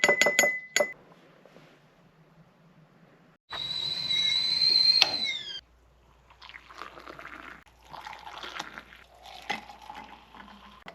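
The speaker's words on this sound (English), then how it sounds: "I just take a little bit of raw cacao, some honey, a little unrefined salt, and cinnamon, and just stir it in mugs." A spoon stirs raw cacao, honey, unrefined salt and cinnamon into hot chocolate in mugs, with bright clinks against the ceramic, a sustained scraping swirl, then scattered quieter taps.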